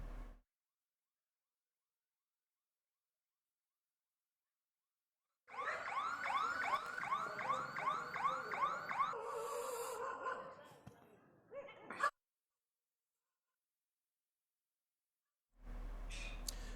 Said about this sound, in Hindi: आग लगने के कारण ATM में लगे इमरजेंसी सायरन भी बजने लगा था।